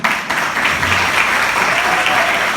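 A church congregation at a Wednesday evening service applauds a woman pastor, loud and close, with dense continuous clapping that holds steady throughout.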